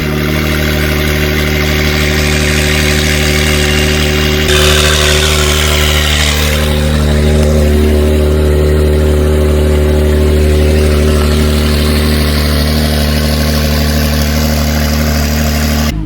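A Honda NSX sports car engine drones steadily from inside the cabin while driving, a loud continuous mid-pitched hum with a brief shift in tone partway through, no voices.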